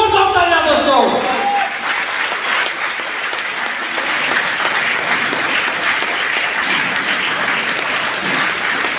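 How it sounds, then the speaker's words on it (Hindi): An audience at a stage event bursts into loud, sustained applause that fills the room, a dense wash of clapping continuing steadily throughout, with some faint voices beneath. "जोरदार तालियां दोस्तों।"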